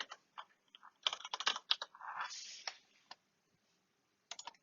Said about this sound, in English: So I'm going to go ahead and type in Vans headquarters.